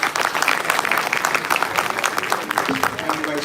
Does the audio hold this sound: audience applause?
yes